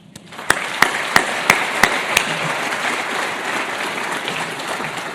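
A morning crowd at the Asphalt Institute's 100-year celebration in Lexington breaks into sustained applause to welcome leadership and members, with a few sharp, evenly spaced claps standing out near the start.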